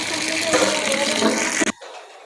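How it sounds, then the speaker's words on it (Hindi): Washing water pours through a strainer full of mustard greens for sarson ka saag, a dense steady splashing rush that cuts off abruptly near the end, leaving a quieter trickle. "तो पानी ये छानने में डाला है, तो पानी अच्छे से निकल जाएगा।"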